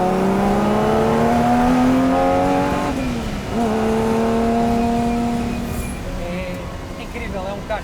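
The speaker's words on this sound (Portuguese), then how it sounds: "o som do motor é incrível" Jaguar E-Type historic racer with a tuned race engine revving hard, rising pitch sweeps that dip at a gear change and climb again, loud and close throughout.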